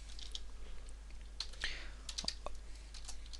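Keystrokes on a computer keyboard while a directory path is typed: faint, sparse, irregular clicks in a quiet room.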